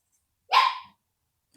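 A single dog bark rings out from outdoors, one short sharp burst standing alone against an otherwise silent background.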